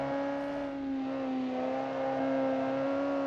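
1960s muscle car engine in the BeamNG driving game, held near its redline of about 4,600 RPM: a steady, loud, droning rev with strong low harmonics and slight rises in pitch, heard alone without talking.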